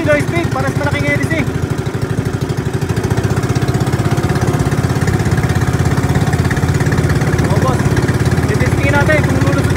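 A 19 HP low-speed engine runs steadily and loudly, a close rhythmic chugging drone that holds even for the whole stretch, with a few faint voices in the background.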